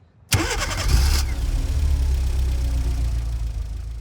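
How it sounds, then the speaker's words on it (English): A Toyota Camry XV engine cranks and catches after a silent pause, triggered by a remote start, then settles into a steady, close, loud idle with no talking. "And here you go, the car is running."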